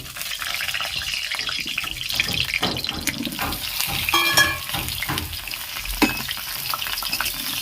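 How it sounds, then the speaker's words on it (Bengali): Pre-fried pointed gourd (potol) sizzles steadily in hot oil in a pan, close and fairly loud, with spatula stirs and a few metal clinks. No one speaks. "তেলটা গরম হয়ে গেছে এবারে আমি পটলগুলো দিয়ে দেব"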